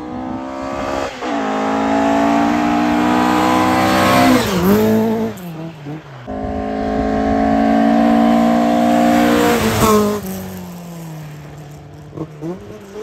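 Rally cars at a rally stage driving toward a tight first corner, engines revving loudly with rising and falling pitch as they pass near, in two long passes with brief gaps between.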